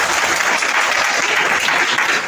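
Loud, dense applause from the audience at a Vishva Hindu Parishad foundation day gathering of women's groups, steady and continuous with no voices over it.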